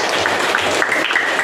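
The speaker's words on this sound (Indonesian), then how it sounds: "tepuk tangan buat kita semua." Steady broadband applause from a group, continuous clapping filling the room for the whole moment without pause.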